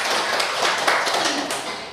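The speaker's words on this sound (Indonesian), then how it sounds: "boleh tepuk tangan dong kita" Classroom of students clapping together for a short burst, dense and fairly close, with no one talking over it.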